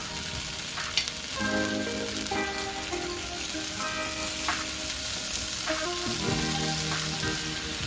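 A quartered onion sizzling on a hot grill for roasted tomato soup, a steady close crackle and hiss that runs unbroken throughout with no voices.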